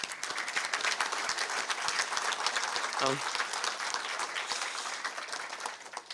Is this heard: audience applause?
yes